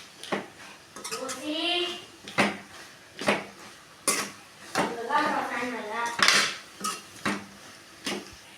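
Vegetables and masala stirred in a pan for hotel-style egg fried rice, loud repeated metallic clanks and scrapes of a spoon against the pan with talking between them.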